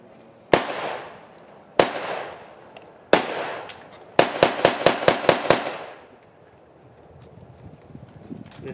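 SKS rifle fired at a Vietnam reenactment at a military museum: three spaced loud shots followed by a rapid burst of about six more, each sharp crack ringing out, then quiet outdoor ambience.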